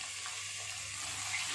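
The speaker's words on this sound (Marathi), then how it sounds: "आता त्यामध्ये कोळंबी घालायची आहे।" Prawns sizzling in hot oil with onion and tomato, a steady close hiss without pauses and no voices.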